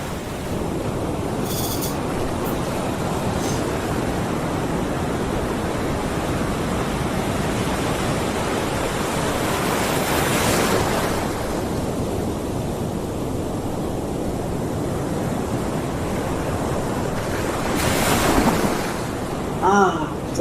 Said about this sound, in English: Do you hear that sound of the ocean?